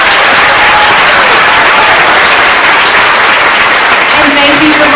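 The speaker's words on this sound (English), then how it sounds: "so let's give them a round of applause." Dense, loud applause from an audience for students at a constitution program, steady broadband clapping for the full five seconds with some voices mixed in.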